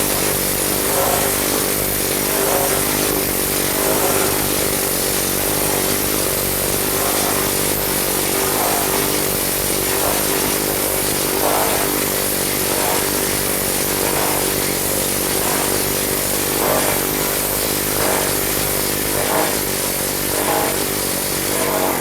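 A planishing hammer smooths a metal panel in a workshop, a loud continuous mechanical drone with rapid buzzing hammer strikes and faint rhythmic pulses of the panel being worked, no voices.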